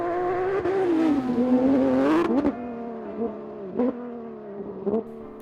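A Porsche 997 Cup rally car engine climbs and falls in pitch as it revs, with sharp bursts of throttle and a few abrupt cuts, moderately near and heard without voices.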